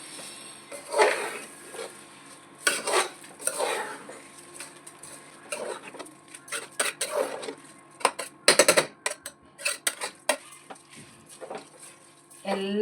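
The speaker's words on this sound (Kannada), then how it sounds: "ನಾನು ಇದನ್ನೆಲ್ಲ ಹೀಗೆ ಮಗಚ್ಕೊಳ್ಬೇಕು" A spoon scrapes and clinks against a pot while egg biryani rice and masala are stirred, irregular bursts of scraping and metallic knocks, close, with talk between strokes.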